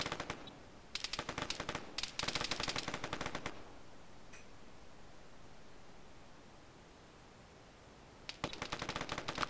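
Distant rapid automatic carbine fire in an Arma 3 capture-the-flag match: two dense bursts early, a lull of faint noise, then another burst at the end; no voices.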